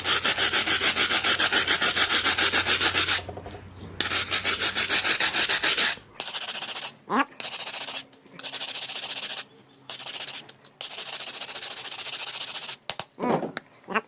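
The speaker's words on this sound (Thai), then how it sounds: "แล้วก็ใช้แปรงที่ฟันขัดนะครับ นะ หรือจะให้ดีก็ใช้แปรง แปรงลวดนะครับ" A rusty gas stove burner head is scrubbed with a toothbrush, giving close, loud, rapid rasping strokes in long continuous runs, then shorter separated bursts with pauses between them.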